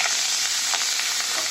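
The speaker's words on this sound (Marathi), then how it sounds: "आता मी फोडणीत थोडी कोथिंबीर घालते" Coriander dropped into a hot, sizzling tempering of oil (phodni) for amti, a Maharashtrian kokum and jaggery dal, giving a loud, steady frying hiss with small crackling pops throughout.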